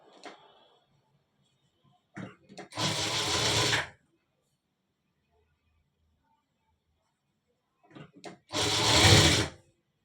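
A sewing machine stitches a shirt pocket turned inside out in two loud, close bursts of rapid whirring, the first lasting about a second and the second slightly shorter, with soft handling clicks and near-silence between them.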